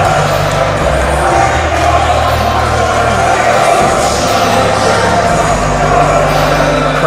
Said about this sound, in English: Crowd is going fucking nuts